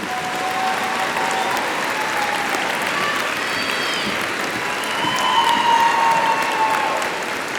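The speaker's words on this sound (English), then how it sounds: "Please join me in a round of applause for our certificate students." Sustained audience applause at a university winter graduation ceremony, a dense wash of clapping from a large crowd in a hall that swells slightly toward the end.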